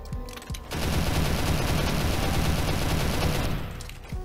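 Sustained rapid gunfire in the video game SCP Roleplay, a dense, loud barrage of overlapping shots from about 0.7 seconds that tapers near the end, with no talking.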